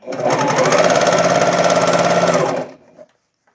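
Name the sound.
sewing machine stitching top and bottom fabric layers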